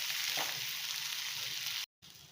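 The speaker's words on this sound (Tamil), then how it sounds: "ஜஸ்ட்டு எண்ணெயில் அப்படியே நல்லா ஃப்ரை பண்ணி எடுத்துக்க போகிறோம்" Raw plantain pieces fry in hot oil, a dense, steady sizzle heard up close that drops out abruptly for a moment near the end before the bubbling resumes.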